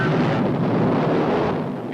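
Retaliatory missiles launch with a dense, sustained roaring blast, loud and rumbling for a couple of seconds as part of a dramatic movie trailer soundtrack.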